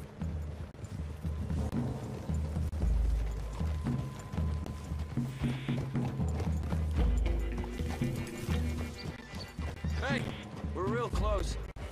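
Horses' hooves clip-clop in Red Dead Redemption 2 in a gameplay scene: intermittent soft, irregular hoof thuds beneath game ambience, with an occasional whinny and people talking.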